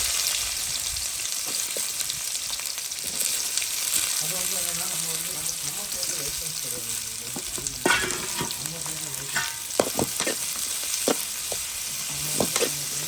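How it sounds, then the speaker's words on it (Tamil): Onions fry in hot oil for a squid gravy, giving a continuous close sizzle with intermittent stirring scrapes and clicks. Someone speaks briefly partway through. "எண்ணெய் சூடாக அவ்வளோ போட்டு வெங்காயத்தை வச்சுக்கலாம்."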